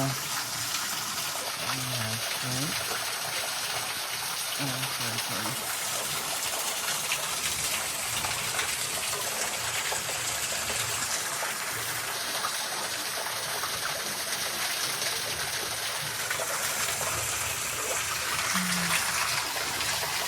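Water flows and gushes steadily inside a cold cave at Kosanji temple in Japan, a loud, continuous rushing wash with a voice speaking briefly over it.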